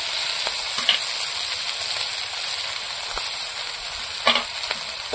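Garlic sautéing with potatoes in a pan for a Sundarbans-style curry, a steady close sizzle and hiss with a few clinks of stirring and no talk.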